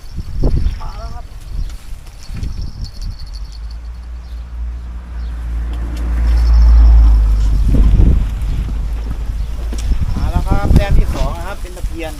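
Gusty wind buffets the microphone beside a natural canal, Khlong Chorakhe in Samut Prakan, during a fishing outing: a steady low rumble swells loudest in the middle, with faint voices briefly audible.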